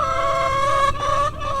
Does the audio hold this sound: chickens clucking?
yes